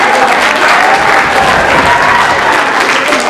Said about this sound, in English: Also, another round of applause for Max